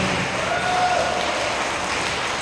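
A church congregation claps during a worship service in Alfonso, Cavite. The applause is a dense, steady wash of many hands, loud and continuous throughout, with no voices standing out.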